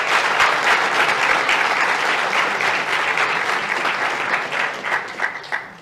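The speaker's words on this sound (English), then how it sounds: "Let's give Austin a big hand of applause." Dense, sustained audience applause fills a room at an awards event, steady and loud throughout before thinning slightly toward the end.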